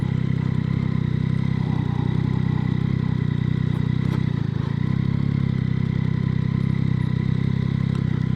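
A 2026 Yamaha MT-09 SP motorcycle engine idles steadily with a constant mid-pitched drone and light mechanical clatter, close and unchanging for several seconds.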